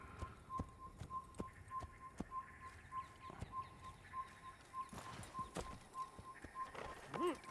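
Horse hooves clip-clop in the Assassin's Creed video game, a steady trotting rhythm at moderate distance with a repeating whistle-like tone and occasional bird calls around it.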